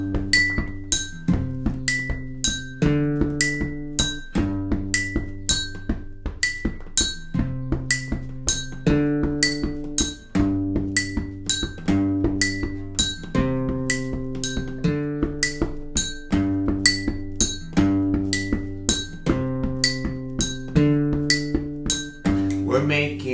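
Glasses are clinked together in a steady repeating rhythm alongside bright, ringing pitched tones that form a simple tune for a children's music lesson, close and clear with no talk.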